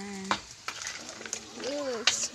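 Ginataang kabayo, horse meat in coconut milk, simmering in a pan while being stirred, with soft scraping stir strokes and faint bubbling, a couple of brief clinks, and a voice heard faintly in the background.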